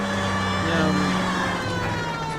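A steady police car siren wail in the video game L.A. Noire drones through the whole stretch, fairly loud and continuous, with engine-like hum underneath and no talking.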